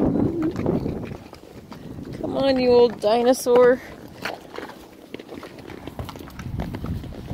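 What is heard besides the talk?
horse hooves clip-clopping on a mountain trail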